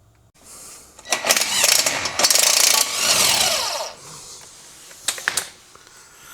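Hand or power tool work on the seized suspension knuckle bolts of a neglected Mini Cooper S R53: harsh, close metallic grinding and straining in a long burst, followed by two short sharp bursts near the end, with no talk.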